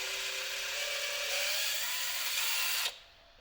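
A power drill bores through a plastic Spirit Halloween 80% sized Proton Pack Neutrona Wand with a 6.5 mm bit, giving a steady close whine for almost three seconds before cutting off sharply.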